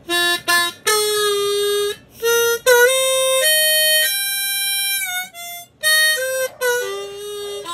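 A Hohner Special 20 diatonic harmonica plays a lively riff of short bright notes and bends, with a few sustained tones and brief gaps between phrases, close and clear with no talking.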